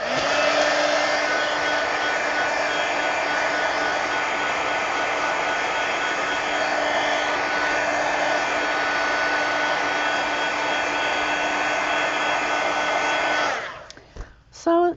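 A hair dryer blows steadily on a wet painted craft project at a craft table, a constant loud whir with a fixed tone for about thirteen seconds, then it cuts off and a few faint handling noises follow.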